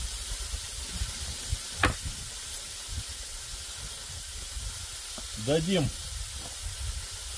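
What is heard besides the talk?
steam released from Afghan kazan pressure cooker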